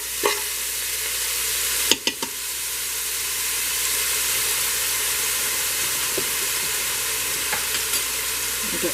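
Food being stirred in a Ninja Speedi cooker while making salmon cakes and pasta, a steady hiss and sizzle throughout, with a few brief utensil clicks and scrapes near the start.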